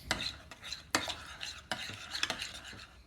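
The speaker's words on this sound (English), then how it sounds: "You mix the honey up with all the yogurt." A spoon stirs honey into Greek yogurt in a bowl, giving a series of soft scraping and clinking strokes with irregular rhythm, close and fairly quiet, with no talking.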